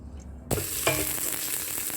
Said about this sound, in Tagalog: kamatis lang po yung gigisa ko. Gisa na po tayo.